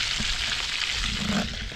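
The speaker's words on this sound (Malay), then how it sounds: "Sambil masak-masak ikan, kita goreng je lah." Fish sizzles in hot oil in a pan at a riverside camp under a tent, giving a continuous loud, crackling hiss with no voices.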